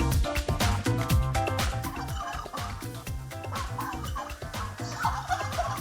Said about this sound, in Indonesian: Tuh kan, dia terpancing bersuara juga.